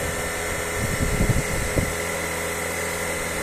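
A homemade heater fan running inside a tractor cab gives off a steady, close whirring hum, with a few soft knocks and rattles about midway through.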